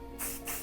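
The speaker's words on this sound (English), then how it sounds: "I open and spray between" Two quick hissing bursts from an aerosol hair texture spray can, close by, one right after the other.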